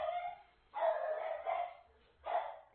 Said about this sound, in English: And my dog just go crazy